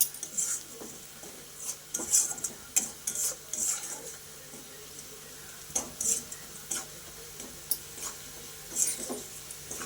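Onions frying slowly with turmeric over a low flame, a soft steady sizzle broken by repeated scraping strokes of a spoon against the pan, no voices.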